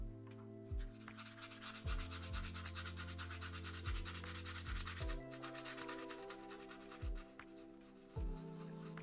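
A brush loaded with dry paint scrubs back and forth over a painting surface, a soft, close, repeated rubbing and scratching, with quiet musical tones sounding underneath.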